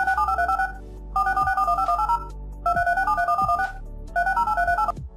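Four bursts of rapid telephone keypad tones, each a quick run of beeps, separated by short pauses over a low hum.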